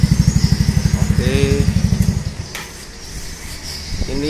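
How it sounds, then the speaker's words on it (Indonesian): Yamaha Nouvo Z 2005 motorcycle fitted with an R9 Misano exhaust, its engine idling close by with a steady, fast low pulsing that drops off about halfway through before settling into a quieter rumble. "Ini Yamaha Nuvo Z 2005 pakai knalpot R9 Misano."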